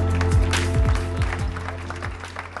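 An audience at a startup awards ceremony in Marseille applauds award winners in a steady, close wash of clapping. It runs under background music and a presenter's voice.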